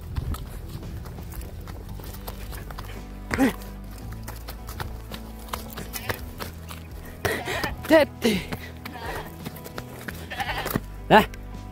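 A few short goat bleats ring out at intervals over a steady background hum, with some faint hoof-like clatter.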